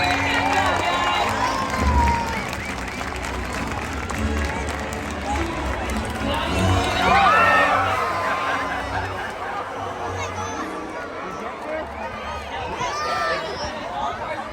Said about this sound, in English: Let's give a big round of applause for our volunteers.